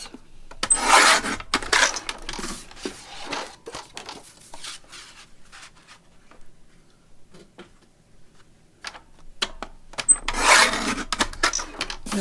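A paper pad is cut into 4-inch strips, making bursts of rasping, scraping cuts that come early and again near the end, with quieter rustling and light handling noises between them.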